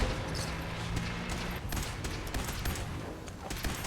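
Dense gunfire from an online multiplayer shooter game fills the scene, with rapid overlapping bursts and scattered shots continuing steadily at close range, with no voices.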